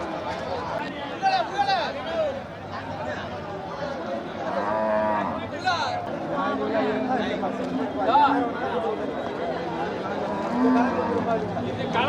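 Cattle moo repeatedly at a busy village cattle market in Chettithangal, Tamil Nadu, the calls rising over steady crowd chatter and nearby voices talking throughout.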